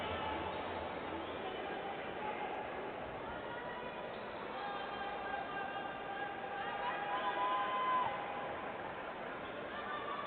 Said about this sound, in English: You can hear the crowd allowing the referees to hear their displeasure.